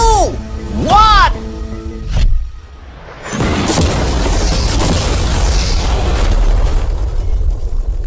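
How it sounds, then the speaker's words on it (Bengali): A loud explosion blows up a car with mannequins inside, a sharp boom followed by a long rumbling roar and debris noise, after a burst of excited speech. "বিস্ফোরণটা এত জোরে হয়েছে যে ভিতরের ম্যানিকুইন গুলো ছিটকে এদিক ওদিকে বেরিয়ে গেছে"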